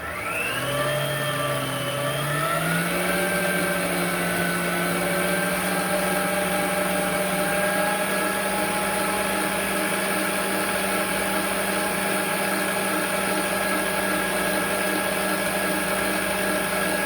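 An electric hand mixer whirs steadily through turtle cookie dough with egg yolk, milk and vanilla, a continuous motor drone with a slight pitch rise at the start, close and loud, no talking.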